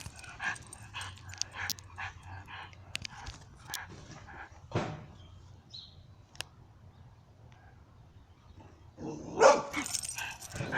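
An old dog outdoors gives a few scattered barks and soft whimpers at moderate distance, with a louder, sharper outburst near the end over quiet background sounds.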